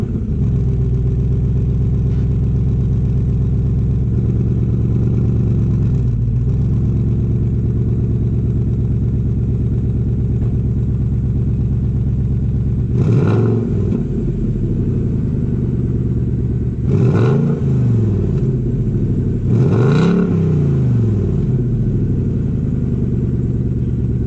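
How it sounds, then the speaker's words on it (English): Exhaust of a 2018 Ford Mustang GT V8, idling with a deep steady rumble, then three sharp revs that rise and fall near the end, loud and close with no talking. "the number 4 thing that I like about this car, and that would be the exhaust sound."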